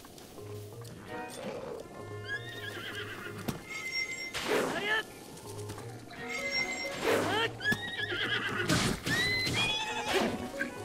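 A horse in Zelda Breath of the Wild neighs and whinnies repeatedly, the shrill calls interleaved with snorts and clip-clopping hooves, all fairly close amid game ambience.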